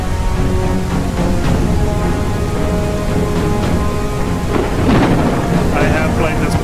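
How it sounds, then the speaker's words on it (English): Thunderstorm in the space game Space Bourne 2: loud, continuous rain with rolling thunder swelling near the end, over faint sustained tones. "Look at that rain detail he put into this."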